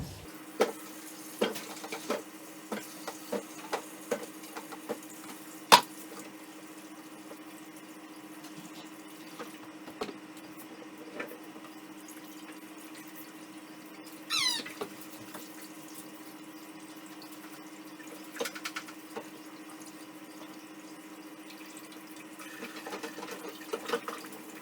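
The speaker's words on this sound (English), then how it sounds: "Gonna give them a rinse." Running tap water rinsing home grown potatoes in a kitchen sink, a soft continuous trickle with scattered splashes, knocks and clunks from handling the potatoes, and a steady background hum.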